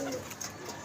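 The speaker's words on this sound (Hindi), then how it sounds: "क्या माशाल्लाह क्या कबूतर है" A pigeon coos softly in a brief, faint low murmur that is partly masked by background noise, with no clear voices.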